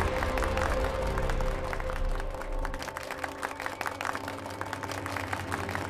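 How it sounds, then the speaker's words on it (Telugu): Applause from a studio crowd at a Telugu TV contest, a steady wash of clapping for about six seconds, loudest at the start and easing slightly, with no talk over it. "చప్పట్లు."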